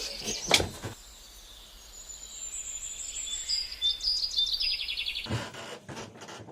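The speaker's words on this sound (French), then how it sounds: "Bruit de oiseau qui fait cuit." Small birds chirp and tweet along the quays in Paris, a string of high, quick calls at moderate distance, set between louder knocks and handling noises at the start and end.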